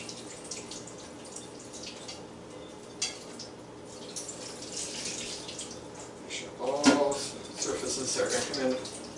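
Brewing utensils are rinsed with sanitizing solution while preparing to brew beer: running and dripping water splashes steadily at close range, growing louder near the end, as a person talks over it.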